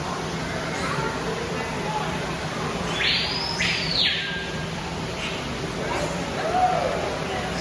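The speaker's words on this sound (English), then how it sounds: "Here is one of the parrots, or I think they're called the macaws" A macaw parrot calls once with a harsh, rising-falling squawk inside the bird exhibit of Baltimore's National Aquarium, heard over a steady hum of visitors and room noise.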